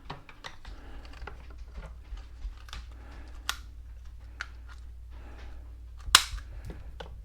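Scissors snip replacement string trimmer line for a Wild Badger WB26BCI trimmer: a series of sharp, close clicks and cuts at irregular intervals, with one louder snap near the end.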